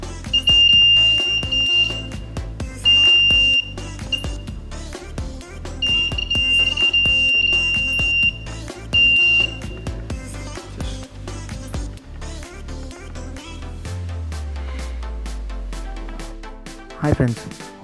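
An Arduino burglar alarm with an ultrasonic sonar sensor and LED sounds its buzzer in several intermittent high-pitched beeping bursts over a busy, rhythmic background.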